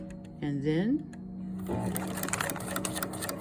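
Sewing machine stitching a feed sack tote, its motor whirring steadily and close after a brief spoken phrase, the busy mechanical chatter continuing under faint workshop sounds.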